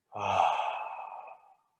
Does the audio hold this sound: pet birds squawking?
no